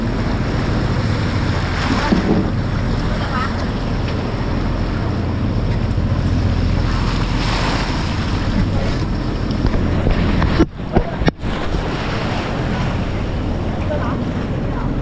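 Ocean waves growing bigger surge and wash continuously beside a moving boat under dark skies, mixed with heavy wind buffeting the microphone, loud and unbroken throughout.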